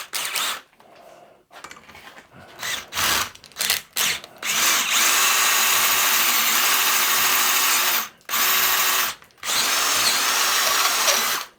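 Step drill bit from a Banggood set cutting a hole in aluminium, a power drill whirring in several short bursts and then longer sustained runs, close and loud, with a steady grinding hum under the motor.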